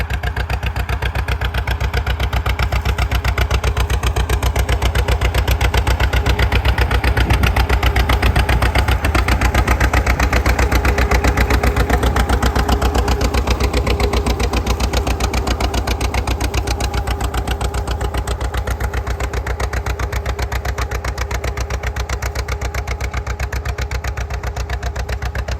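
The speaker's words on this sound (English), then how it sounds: "very distinctive sound if you know what a John Deere D sounds like" A John Deere D tractor runs in second gear while pulling a plow at a plow day, its engine giving a loud, steady, rapid pulsing putter throughout.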